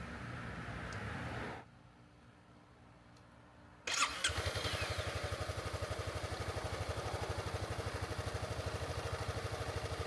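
Honda Forza 300 (NSS300) scooter engine cranks and catches after a pause, then settles into a steady, close, even idle as it warms up; no talking.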